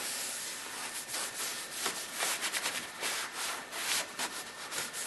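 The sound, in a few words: wiping rubber surface clean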